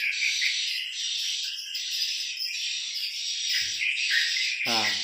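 Swiftlet chicks in a swiftlet house give a steady, dense chorus of high, thin chirps that goes on throughout, with a few short lower knocks near the end.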